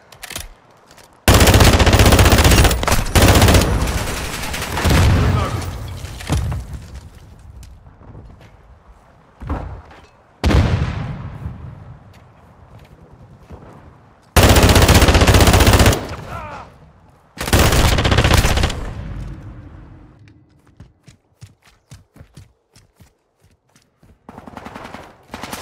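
Loud bursts of automatic gunfire in a Call of Duty match, several long sustained volleys separated by quieter gaps with single shots and clatter, close and dominant throughout.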